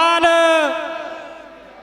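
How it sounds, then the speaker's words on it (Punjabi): A crowd at a Sikh protest gathering at Gurudwara Amb Sahib in Mohali roars a jakara war cry in welcome, one strong sustained group shout that swells and then fades away. "ਅਸੀਂ ਉਹਨਾਂ ਦਾ ਇੱਥੇ ਆਉਣ ਤੇ ਜਕਾਰਾ ਗਜਾ ਕੇ ਸਵਾਗਤ ਕਰਨਾ"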